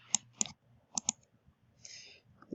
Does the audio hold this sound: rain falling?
no